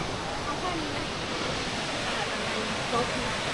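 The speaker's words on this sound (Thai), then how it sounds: "ตรงนี้ก็เห็นน้ำตกแล้วอะ่ะ" Water pours steadily over a waterfall at Furong Town in China, a broad continuous rushing hiss heard from a distance, with faint voices now and then in the background.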